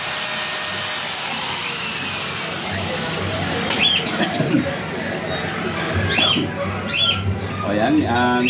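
Pet birds chirp and squawk in scattered bursts over a steady background hum, with sharp high calls recurring through the second half.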